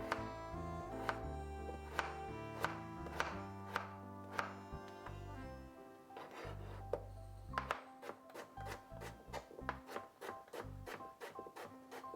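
A knife cuts potato into strips on a board, with crisp, regular chops that come at a quicker pace toward the end, over a soft tonal background.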